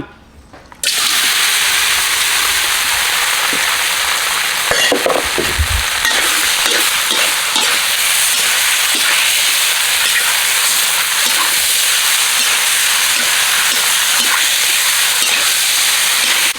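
Steady loud sizzling and hissing of pork fat frying in a dry pan over medium heat, with occasional scrapes and clinks of stirring, close up and constant throughout.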